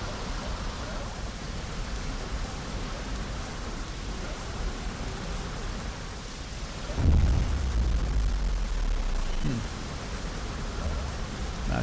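An explosion in the video game Interstellar Sentinel bursts as a sudden deep boom partway through, rising above a constant hissing, rumbling background before fading back into it.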